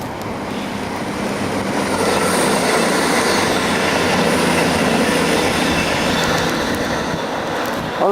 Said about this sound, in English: That's a Virgin train, one of Richard Branson's stock.